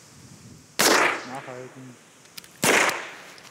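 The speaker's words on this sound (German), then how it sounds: "einen Schuss abgeben" Two sharp handgun shots crack at federal police shooting training, close and loud, nearly two seconds apart, with a brief spoken word between them.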